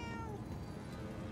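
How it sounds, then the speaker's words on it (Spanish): A cat in the video game Murdered: Soul Suspect gives a single drawn-out meow, close and fairly quiet over low background hum. "Hola, gatito."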